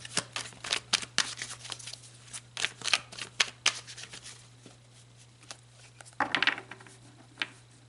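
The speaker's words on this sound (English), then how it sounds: "So let's pull some cards and see what Mars and Venus are" A deck of tarot cards is shuffled by hand nearby, with rapid, uneven riffling and slapping taps over a low steady hum and no talk.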